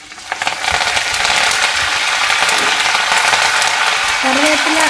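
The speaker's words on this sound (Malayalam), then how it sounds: "കറിവേപ്പില നമ്മൾ കഴുകി വെച്ചിരുന്നതായതുകൊണ്ടാണ് അത്രയും വെള്ളമയം ഉള്ളതുകൊണ്ട് അങ്ങനെ പൊട്ടുന്നത്." Washed curry leaves dropped into hot oil for a garlic pickle, their clinging water making them splutter: a loud, dense crackling sizzle that surges up and stays steady and close.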